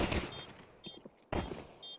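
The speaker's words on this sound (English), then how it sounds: "Crazy couple of pistol shots here from Lau." Counter-Strike pistol shots, a few quick, faint gunfire pops in short bursts, distant and thin against quiet background.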